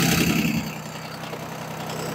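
A Yanmar F13D tractor's diesel engine catches with a loud burst and then settles into a steady, even idle rumble close by.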